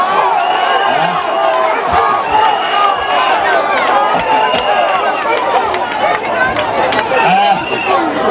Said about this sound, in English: Excitable crowd.